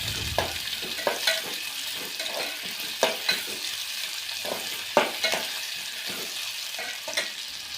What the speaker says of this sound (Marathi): त्यानंतर त्यात कापून घेतलेला कांदा घालायचा. याला चांगलं परतून घ्यायचं.